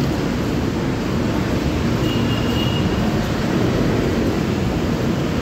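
Steady, loud rumbling roar of a moving MRT train in Manila heard from inside, with a constant hiss of air and rattling, and no voices.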